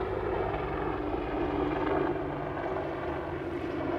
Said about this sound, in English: we have the joy of a helicopter that continues to fly over us